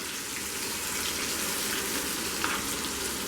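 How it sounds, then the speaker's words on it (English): A blended paste of tomato, chilies and ginger for a Bengali pomfret fish curry bubbles and simmers in a pan, a dense, even, rain-like crackle filling the whole stretch without pause or talk. "Give it a stir and let it simmer"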